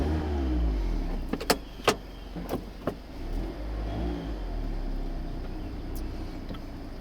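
A 2016 Mazda MX-5 Miata GT, the ND generation, pulls away with its top down: a few close mechanical clicks and thumps, then a steady engine hum and road noise as the roadster drives off.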